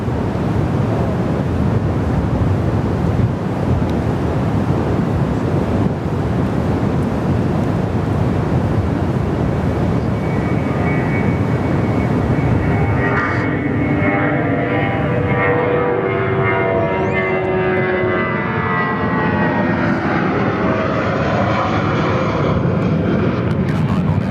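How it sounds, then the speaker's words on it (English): Airbus A320 at Perth Airport, a loud broad engine roar with wind buffeting the microphone, rising and shifting in pitch partway through as the jet moves past. "Here's our A320"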